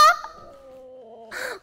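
A chicken gives a short cluck, then a long drawn-out tonal call, and ends with a brief harsh squawk, close and clear with no talking over it.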